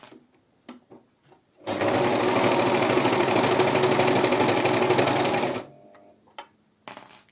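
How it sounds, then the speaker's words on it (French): An overlock serger runs a straight seam on lingerie fabric in one continuous loud, fast mechanical whirring burst of about four seconds, close up, bracketed by quiet handling clicks before and after. "Je vais surjeter toute cette partie-là droite."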